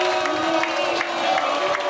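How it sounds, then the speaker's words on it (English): A big crowd of Jacksonville Jaguars fans fills the Pavilion Inn pub with a continuous roar of cheering and shouting, a dense wall of voices holding steady throughout. "a big crowd of Jaguars fans here at the Pavilion Inn"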